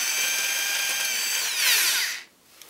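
A power drill with a 3mm bit bores into an e-bike frame, a loud high-pitched whine that climbs briefly as it cuts and then stops abruptly, leaving near silence.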